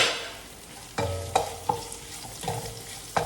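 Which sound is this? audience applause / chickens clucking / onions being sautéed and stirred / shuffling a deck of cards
onions being sautéed and stirred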